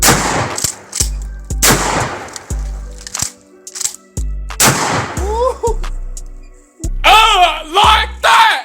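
A Winchester 1300 Defender shotgun fired at a gun range, with several loud, sharp blasts spaced about a second apart, each ringing out briefly, and excited shouting and whooping between and over the later shots.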